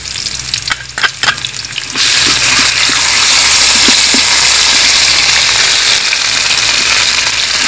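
Spice paste of cumin, ginger, black pepper and green chilli hits fried potatoes in a hot pan; after a few stirring knocks, a loud, steady sizzle erupts and continues close up without pause.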